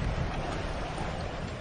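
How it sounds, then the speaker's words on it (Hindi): Strong wind blows in a steady, loud rush across the whole clip, a broad roar with rumbling gusts and no voices. "कितनी तेज हवा चल रही है।"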